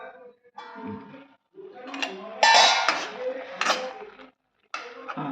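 A pot of broccoli and mushrooms is stirred, then a lid is set on it, with metallic scrapes and clinks and a louder clatter, followed by short pauses, up close.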